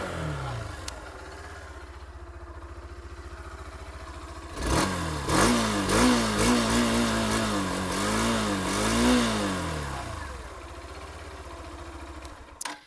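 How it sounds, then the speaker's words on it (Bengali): A Hero Xtreme 160R 2V motorcycle, a 2024 model in Stealth Black, idles steadily through its exhaust, then is revved repeatedly in a series of rising and falling throttle blips before settling back to a loud, close idle. "চলুন এবার আমি এই বাইকটার এক্সস্টের সাউন্ড আপনাদেরকে শোনাচ্ছি"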